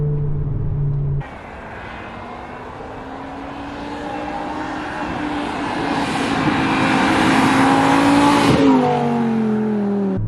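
A high-revving V10 engine in a 2005-06 BMW E60 M5 climbs steadily in pitch as the car accelerates hard, loud and close, then the revs drop off sharply near the end.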